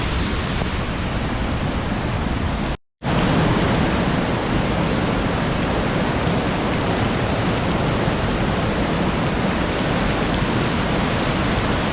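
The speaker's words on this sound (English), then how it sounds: "This is where all the water from Nooksack Falls is coming from" Water from Nooksack Falls rushes in a steady, loud roar with a momentary cut-out near the start, then continues unbroken with no voices.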